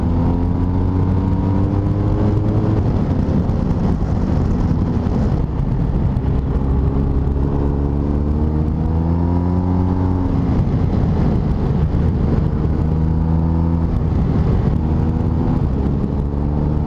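A BMW R1250RS motorcycle engine on a test ride drones loud and close, its pitch rising through the gears, easing off under braking, then climbing again as it pulls away, over steady wind rush.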